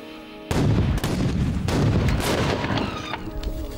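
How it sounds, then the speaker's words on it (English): Explosive charges on a car, including some on the doors, go off in a rapid cluster of sharp bangs and booms together, followed by rumbling and crackling debris for a few seconds. "one big movie explosion is actually a mass of little ones"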